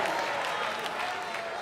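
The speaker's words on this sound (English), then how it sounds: "you can clap once, go ahead" Congregation applauding at a church service during a miracle testimony, a full, even burst of clapping from a crowd indoors, with a voice faintly underneath.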